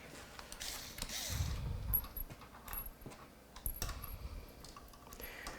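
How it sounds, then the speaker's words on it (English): A red electric screwdriver driving screws into a soft-metal PC water-cooling radiator during a computer build, with brief whirring bursts, clicks and creaks of parts being handled close by, and no talking. "I need the red electric screwdriver, please, because I want to speed this process up."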